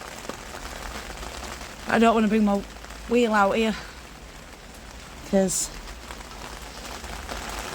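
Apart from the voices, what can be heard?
rain falling outdoors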